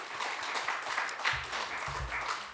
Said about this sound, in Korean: 우리 하나님께 영광의 박수 올려드리죠.